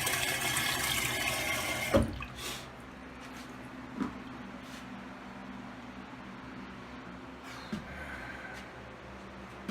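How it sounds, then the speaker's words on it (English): Water gurgles and drains away down the hole of a newly installed RV trailer toilet into the holding tank, starting with a louder flush-like rush, then settling into faint trickling with a few small clunks, no voices. "in case you're wondering where the water goes, it goes down the hole and into the tank"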